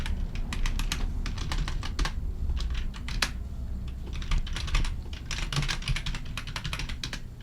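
Rapid clattering keystrokes on a computer keyboard as a long password is entered, dense close clicks in quick runs with a short pause midway, over a steady low hum.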